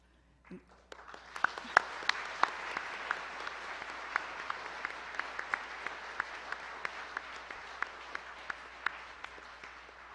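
An audience at a Fulbright 60th anniversary gala banquet in Seoul breaks into applause. It swells after a brief start into sustained, even clapping, with a few sharp louder claps standing out over the crowd.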